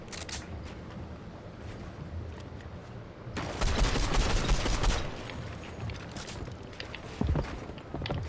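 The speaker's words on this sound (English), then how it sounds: "I got shot at, so I just placed a wall there." Bursts of gunfire in a competitive shooter video game match, with a denser cluster of rapid shots in the middle and a sharp report near the end, over steady game ambience.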